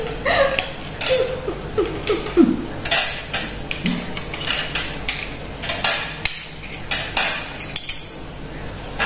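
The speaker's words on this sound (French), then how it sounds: "Ah, la vaisselle, c'est bien, mais après il faut ranger." Dishes, pots and cutlery clatter as a kitchen is tidied after washing up, with a steady run of close, sharp clinks and knocks, some louder bangs, and no talk.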